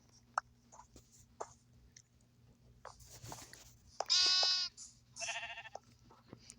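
A baby brown sheep in the Lokicraft video game bleats, with several short, wavering cries including one loud, drawn-out bleat, alongside scattered clicks and game sounds over a quiet hum.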